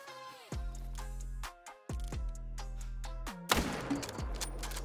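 Several loud gunshots in the hunting video game theHunter: Call of the Wild, each a sharp blast with a booming decay, spaced about a second apart, the last followed by a rattling crash.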